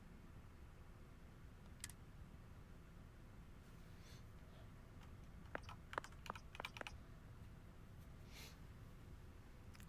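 Faint keyboard typing in a video game: scattered soft key clicks, one isolated tap followed by a quick burst of several keystrokes over a low background hiss.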